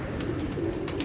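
Pigeons coo softly outdoors in a brief low, throaty murmur, close and steady, with no speech.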